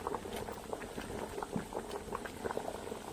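Corn simmers in a pot of boiling water, a soft, steady bubbling with irregular pops and gurgles, faint and close, with no talking.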